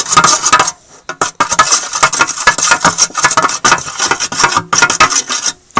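Slime mixture being stirred and mixed by hand, giving rapid wet rubbing and clicking strokes in a close, busy rhythm with brief pauses.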